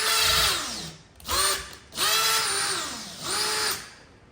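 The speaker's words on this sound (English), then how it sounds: "when I'm drilling right the way through with this" Power drill boring through wood during carpentry housing-joint work, loud close motor whine in four bursts that rise and dip in pitch as the bit bites and eases, no speech.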